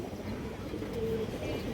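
A silver Baihaki male pigeon of an old bloodline cooing softly, low throaty coos rolling under a noisy, busy backdrop.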